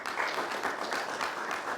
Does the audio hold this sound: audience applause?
yes